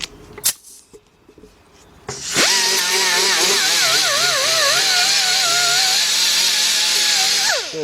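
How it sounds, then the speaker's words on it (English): An old oil pan gasket on a 2003 Jeep Liberty Sport 3.7 is scrubbed off with a power tool, a loud, steady high-pitched grinding whine with wavering pitch that runs about five seconds after a few knocks and handling sounds. "what I gotta do now is go around and clean this old gasket up"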